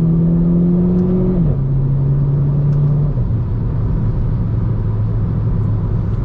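Renault Clio 4 RS Trophy on the road, heard from inside with a loud steady engine drone that shifts pitch downward as it changes gear, under heavy rumbling road noise.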